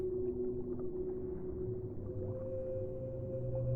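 Low, resonant whale song with sustained tonal calls drifting and wavering over a deep, steady underwater rumble, continuous and soft throughout.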